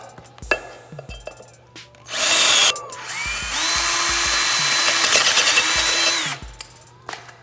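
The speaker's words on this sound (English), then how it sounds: "All 5 holes drilled, good to go." A corded hand-me-down power drill bores holes into a BMW brake rotor during a hub conversion, giving two loud sustained whining bursts separated by short pauses and scattered knocks and clicks around them.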